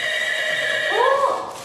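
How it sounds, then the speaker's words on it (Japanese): A recorded horse whinny played by a children's sensor-equipped shoe, a sustained harmonic neigh with a rising-falling wavering call near the end, fairly loud and alone. "これは馬ですね。"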